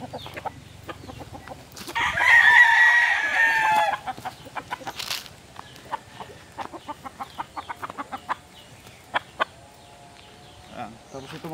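Large gamefowl roosters and hens at a game farm crow and cluck, with one loud, drawn-out crow standing out near the start, followed by scattered clucks and calls over ongoing background noise.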